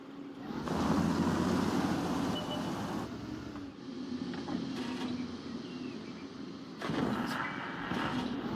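Heavy tank cannon fire in a World of Tanks battle: a few loud booming blasts stand out over a continuous low engine rumble.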